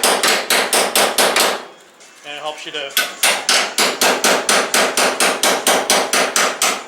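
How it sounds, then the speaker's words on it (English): Rapid, steady hammer blows drive a panel knife against the metal body of a 1968 Triumph TR250, a fast regular rhythm, briefly interrupted by someone speaking before the banging resumes. "you can put the panel knife in here and you can bang away"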